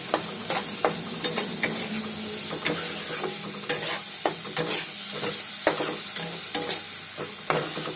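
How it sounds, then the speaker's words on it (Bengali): Chopped tomatoes fry in a pan for mustard hilsa while a spoon stirs them in quick, regular scraping strokes over a constant close sizzle, with no talking. "ভালো করে তো মিশিয়ে নেবো, নাড়াচাড়া করে নেবো।"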